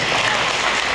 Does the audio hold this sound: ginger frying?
no